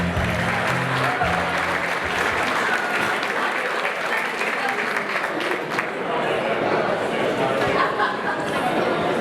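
Wedding reception guests applaud in a steady, dense round of clapping that holds loud and continuous throughout, with crowd chatter mixed underneath.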